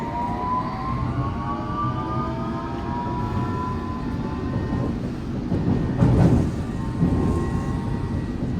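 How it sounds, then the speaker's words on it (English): A London Underground tube train runs with a continuous close rumble and clatter, thin squealing tones gliding above it and a few louder knocks near the end. "The train ahead is just departing the platform."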